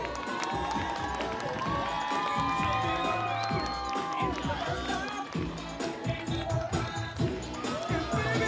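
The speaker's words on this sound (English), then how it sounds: "Let's give them a round of applause, please" Crowd cheering and clapping along a street parade at the North Hudson Pepper Fest, a busy mix of shouts, whoops and applause, with talking voices threaded through the noise.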